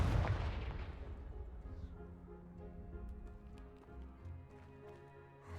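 A Confringo spell blast in Hogwarts Legacy opens with a heavy, booming explosion that decays into rumbling debris and crackles, followed by quieter game ambience and soft thuds.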